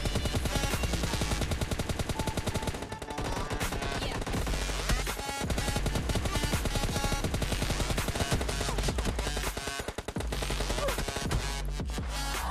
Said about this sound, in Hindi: कुछ साइड से फायरिंग का आवाज आ रहा था, तो एक स्कॉट दूसरे स्कॉट लड़ रहे हैं